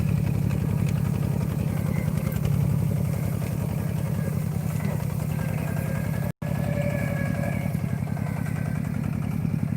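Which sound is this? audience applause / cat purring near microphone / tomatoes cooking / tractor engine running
tractor engine running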